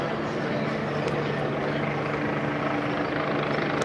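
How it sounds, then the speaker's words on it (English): A police helicopter's steady rotor rumble drones overhead above a protest march in Charlottesville, Virginia, constant and fairly loud throughout, with no other sounds breaking through. "There's the ever-present sound of helicopters circling above."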